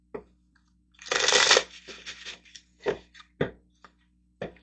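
Tarot cards shuffled by hand, a quick riffle followed by several soft, scattered taps and slides of cards being cut and laid down, close and otherwise quiet.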